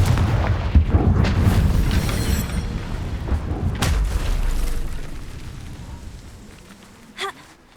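Confringo blasting-spell explosions burst in Hogwarts Legacy as several loud booms and sharp cracks over a low rumble, with the combat noise fading and one last short pop near the end.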